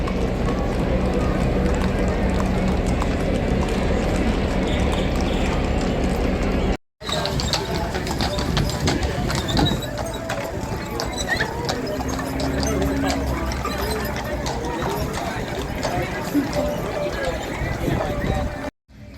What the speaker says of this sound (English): people riding horses.